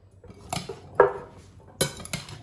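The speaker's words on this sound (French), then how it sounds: "Je mélange le tout." Metal utensils clink against a bowl while tossing a chickpea salad, a few sharp separate knocks and scrapes spaced through a quiet kitchen, close and crisp.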